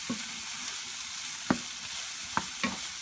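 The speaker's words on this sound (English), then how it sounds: "you just kind of have to sit here consistently babysitting and turning the cauliflower, stirring the cauliflower so it doesn't burn" Cauliflower fries in vegetable oil and butter in a pan under a soft, steady sizzle. A few distinct clinks and scrapes mark it being stirred and turned, with no voices.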